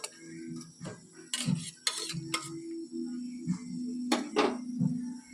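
Spoon stirring chicken curry in a pan, producing scattered light clinking and scraping taps at irregular intervals, close and fairly quiet.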